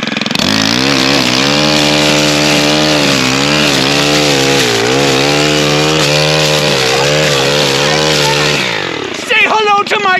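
A Stihl FS 91R four-stroke string trimmer cuts weeds close by, its engine droning loud and continuous with a wavering pitch as the load shifts, then it drops away near the end and a few brief scraping sounds follow.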